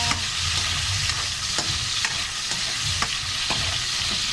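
Tomatoes sizzle as they are sautéed in a pan, a continuous close frying hiss broken by several sharp taps of stirring, with no one talking.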